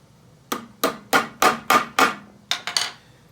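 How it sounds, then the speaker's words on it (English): A Festool Domino connector anchor is tapped into wood, giving six evenly spaced sharp knocks followed by three quicker ones, close and clear with no talking. "We'll tap it home with the domino."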